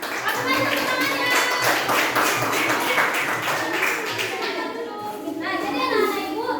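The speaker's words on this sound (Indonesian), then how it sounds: "Tepuk tangan dulu untuk kelompok anak ibu ini." A class of children claps for a group of classmates, with dense, steady applause and taps going on for several seconds, mixed with children's chatter and voices.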